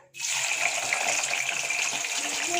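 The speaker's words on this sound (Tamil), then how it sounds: "இப்போ பாருங்கள் ஃப்ரெண்ட்ஸ் ஆயில் நல்லா காஞ்சிருச்சு இதில் வந்து நம்ம கட் பண்ணி வச்சுருக்கிற கோவக்காவை ஆட் பண்ணிக்கலாம்" Cut ivy gourd dropped into hot oil for deep frying, a sudden loud, dense sizzle that starts abruptly and keeps a steady hissing roar throughout.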